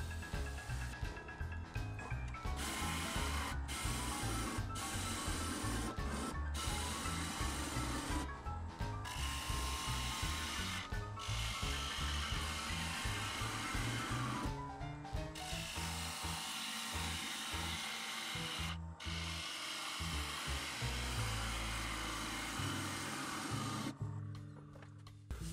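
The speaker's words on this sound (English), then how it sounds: "I'm going to be using my 3/8 inch bowl gouge" A 3/8 inch bowl gouge cuts a cedar vase spinning on a lathe, supported by a live center: a continuous loud whirring, rough scraping drone with rapid rhythmic fluctuation and several brief breaks where the tool lifts off the wood.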